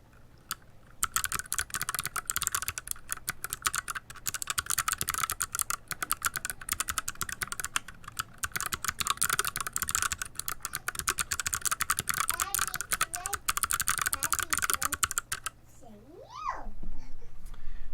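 Fast, continuous clacking keystrokes on an XD75 keyboard with a stainless steel plate, DSA keycaps and Box Jade switches, close and crisp for about fifteen seconds, then stopping as a voice chatters briefly.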